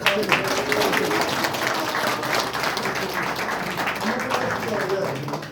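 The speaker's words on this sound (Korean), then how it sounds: "그럼 박수로 환영하겠습니다" A gathered crowd at an association's launch ceremony claps in a full, continuous burst to welcome a newly chosen chairman, with voices mixed into the applause.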